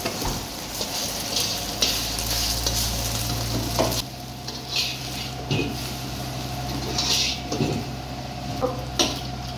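Egg frying in a pan for mixed fried rice, a steady crackling sizzle with repeated scraping and clinking stirs of a utensil against the pan, close and clear without talk.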